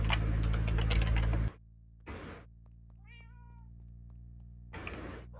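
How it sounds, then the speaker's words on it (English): A cat meows during a Minecraft modpack stream, a short rising-and-falling call near the middle, preceded by a loud burst of keyboard typing and clicking and followed by more faint clatter over a steady low hum. "that and the cat meowing if you care about that"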